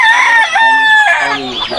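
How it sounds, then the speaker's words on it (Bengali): Fayoumi laying hens at a poultry farm give loud, close, overlapping clucks and drawn-out crowing calls that carry on without a break. "এই যে মুরগিগুলো দেখছি এখানে"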